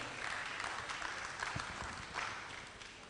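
An audience at a summit breaks into applause, a dense, even wash of many hands clapping that holds for the whole stretch at moderate distance, with no speech over it.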